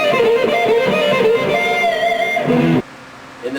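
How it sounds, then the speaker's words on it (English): Two electric guitar finger exercises are played back to back as a metal-style lick, a quick run of picked distorted notes, loud and alone, cutting off abruptly near the end. "When you combine those two finger exercises, what you'll get is something that sounds a little like this."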